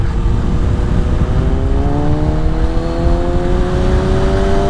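A 2018 Kawasaki motorcycle, a Ninja 400 or Z900RS Cafe, accelerates hard on a test ride, its engine note climbing steadily and loudly up close with continuous roar and wind rush throughout.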